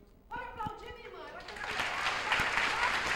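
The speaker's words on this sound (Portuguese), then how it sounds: "Pode aplaudir, minha irmã." Audience applause at a Christian testimony gathering, a burst of clapping swelling in after a brief voice and building to a dense, sustained roar toward the end.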